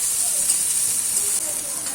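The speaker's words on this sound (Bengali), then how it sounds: "দেখো আমরা কড়াই প্রথমে তেল দিয়ে দিয়েছি, এরপর দিয়ে দেবো পেঁয়াজ কুচি।" Chopped onion sizzling in hot oil in a wok, a steady close frying hiss that holds evenly throughout with no pauses.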